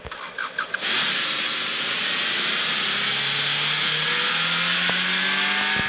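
A Ford GT40 rally car in the Car Parking Multiplayer game cranks briefly, catches, then settles into a loud, sustained engine drone with gradual rising pitch, close and alone.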